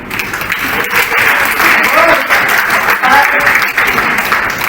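An audience breaks into loud, dense applause at a Mohalla Committee Movement Trust Ekta Din community gathering, with many hands clapping together in a sustained burst.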